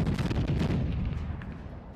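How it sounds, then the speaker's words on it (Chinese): A vehicle-mounted rapid-fire mortar on a military assault vehicle firing a four-round burst at a hillside target about two kilometres away, heard as a dense rumbling cluster of booms that fades with distant echoes. "一辆车的4发炮弹就已经发射出去了，接连传来爆炸的声音。"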